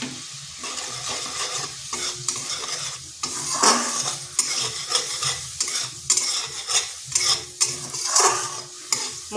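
Spice masala with a pinch of sugar and salt being stir-fried in a pan for a vegetarian bean dish, a close, busy run of scraping and clinking strokes over a continuous sizzle, with no voices.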